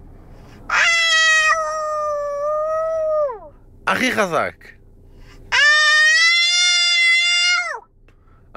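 A young girl imitates a dog with loud, drawn-out, howling cries. Two long wails are split by a short strained yelp, and an adult voice briefly speaks between them.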